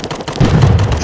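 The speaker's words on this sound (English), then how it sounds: "Someone just threw a grenade." A grenade blast in a multiplayer shooter game, a short loud thump with a rumbling low burst lasting under a second, close and alone.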